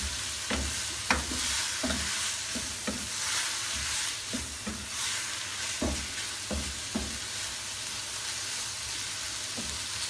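Vegetables with spices and soy sauce sizzle in a hot pan for chow mein while a utensil stirs them, scraping and clacking in irregular strokes over a steady frying hiss.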